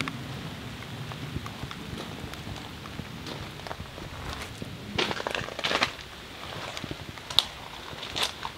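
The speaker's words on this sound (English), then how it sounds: "I don't know if you can tell, but it's raining." Steady light rain falls outdoors at a paver walkway installation site, a soft continuous patter with scattered louder drips and taps on surfaces, fairly faint and without voices.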